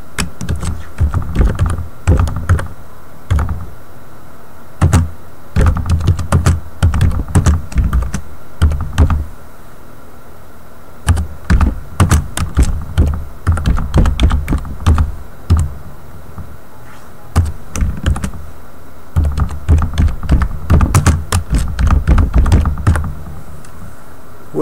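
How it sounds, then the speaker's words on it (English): Typing on a computer keyboard while writing a holiday greeting in MS Word, with loud, close bursts of rapid key clicks broken by short pauses, running for about twenty-five seconds with no speech. "I'm going to type something nice here for the holiday season."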